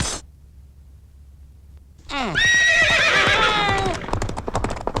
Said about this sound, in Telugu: గుర్రం మీద వచ్చినట్టు కొంత డెక్కల సౌండ్ వినబడుతుంది